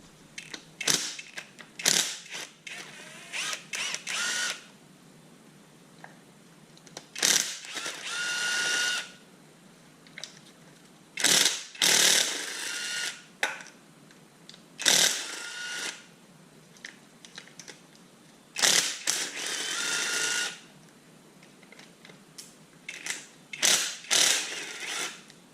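A ratchet clicks in repeated bursts while backing 10mm bolts out of a motor mount on a front-wheel-drive 3800 engine. Several short runs of sharp pawl clicks are separated by pauses, close and loud, with no talking.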